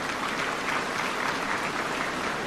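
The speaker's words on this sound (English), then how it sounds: "Let's give them a round of applause." An audience applauds steadily and loudly at an awards ceremony in Tanzania honouring the winners of a 2023 secondary school essay writing competition. The clapping is dense and even throughout, with no voices heard.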